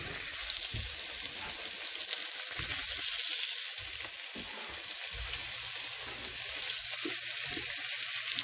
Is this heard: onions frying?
yes